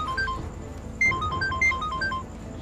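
A melodic phone ringtone plays a bright tune of short beeping notes in two phrases over a busy background of room noise.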